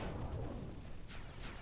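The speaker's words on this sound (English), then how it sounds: "We're gonna have to step into an explosion here." A low, rumbling blast rolls through a battle in the video game Final Fantasy XII. It stays fairly quiet and steady for under two seconds, with a few soft crackling bursts and no voices.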